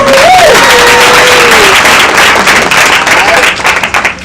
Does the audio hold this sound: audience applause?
yes